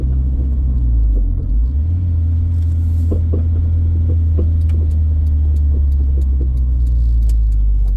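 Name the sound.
sway bar links clunking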